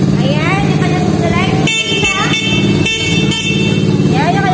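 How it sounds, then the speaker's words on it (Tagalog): A 125cc ATV horn honks in several short blasts, loud and close, over an idling engine with a person talking. "Ayan, yung kanyang busina"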